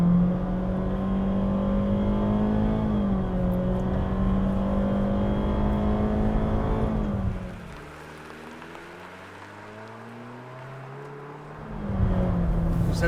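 A 2023 Honda HR-V with a 2-liter four-cylinder, traction control off and in sport shift mode, accelerates at full throttle. The loud, steady engine drone climbs in pitch, dips sharply at a gear change, then surges again, with no voices.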